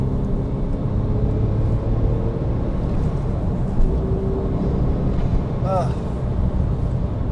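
Porsche 911 Turbo of the 997 generation with its Mezger engine, a steady low rumble running throughout the interior, with someone talking over the drone.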